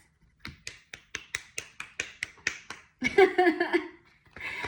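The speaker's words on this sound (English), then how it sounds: "Finger snaps" A series of sharp, close finger snaps, about a dozen in a steady rhythm, followed by a short burst of talk and then a quieter voice.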